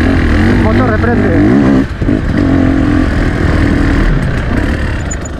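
A motorcycle engine revs up with a rising whine, drops abruptly, then settles into a rough, close idle rumble.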